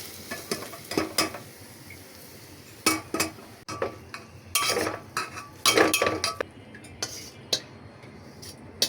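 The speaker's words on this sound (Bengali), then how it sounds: "এখন আমি বাগারের জন্য পেঁয়াজ এবং রসুন সুন্দর করে ভেজে নিচ্ছি।" Onion and garlic frying for a tempering in a home kitchen, a low sizzle punctuated by irregular clinks and scrapes of a spoon against the pan, no voices.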